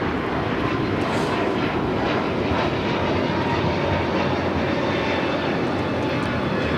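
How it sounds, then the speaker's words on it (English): A Hawaiian Airlines Airbus A321neo takes off at LAX, a loud sustained jet engine roar filling the whole stretch without a break and with no voices. "This is Hawaiian Airlines Flight 61 taking off to Kailua Kona on the A321neo"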